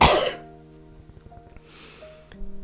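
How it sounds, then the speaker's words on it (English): A single harsh cough bursts out at the start, followed by quiet background music with faint soft clicks. "I still have a cough here and there."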